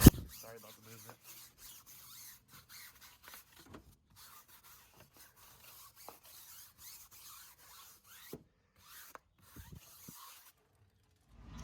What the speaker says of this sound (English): I'm just gonna scrub it with my brush